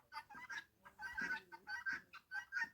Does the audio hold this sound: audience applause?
no